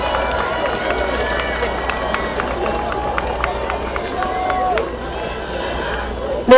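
Rally crowd at a final campaign event outside Balsan Station in Gangseo, Seoul, welcoming arriving party leaders with continuous cheering, hubbub and scattered clapping, under a loud announcer's voice.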